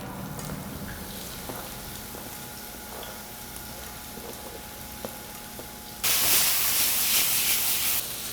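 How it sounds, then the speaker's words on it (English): Onion, tomato and garlic drop into hot oil in a pan, a steady hiss that suddenly jumps to a loud, bright sizzle near the end, with faint clinks of cookware earlier. "once this is hot, we'll add the onion, the tomato, and the garlic, all at the same time"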